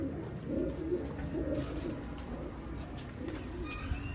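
Pigeons in a loft coo softly and repeatedly, low murmuring calls at a moderate distance over a faint background hum, with no talk.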